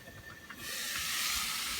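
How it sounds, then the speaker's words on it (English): Eggs fry in a covered pan and burst into a sudden loud steam hiss as water is added, a quiet sizzle giving way to a sustained sharp hiss. "I'm just adding a few drops of water here and there, not too much."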